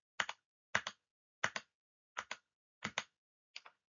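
Sharp, quiet clicks of keys on a computer keyboard as a command is typed, in six short paired taps spaced evenly apart against silence.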